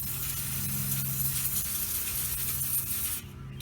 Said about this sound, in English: I'm going to spray her again to make sure we get this extra schmutz off.